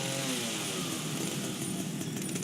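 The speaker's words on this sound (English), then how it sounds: "Use the chainsaw." A chainsaw runs in a video game, a loud continuous buzzing engine drone that holds steady with slight revving swells throughout.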